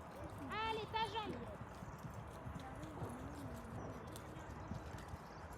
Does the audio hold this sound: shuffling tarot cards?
no